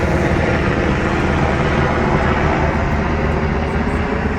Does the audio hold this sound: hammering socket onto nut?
no